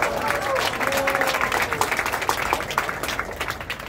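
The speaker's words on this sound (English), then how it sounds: "I think they probably deserve some applause" Audience applause at a London cigar event opening speech, steady dense clapping from a crowd filling the room, moderately loud and sustained throughout with a faint voice beneath.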